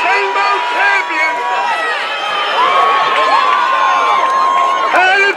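Crowd on a beach cheering and shouting as boats finish the Seine Bowl seine boat race, a loud continuous mix of many excited voices, children among them, close and lively throughout.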